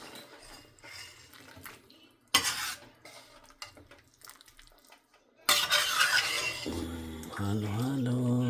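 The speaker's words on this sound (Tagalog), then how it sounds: "Pwede nating haluin siya." Food is stirred in a cooking pot with a utensil, producing close metallic scrapes and clinks that come in uneven bursts between quieter stretches, with watery splashing and a brief voice toward the end.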